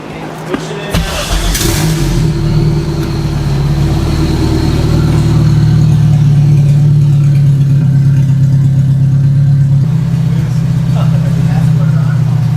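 A turbocharged K24-swapped Toyota MR2 fires up with a short burst, then settles into a loud, steady, close-up rumbling idle with slight revs that runs to the end.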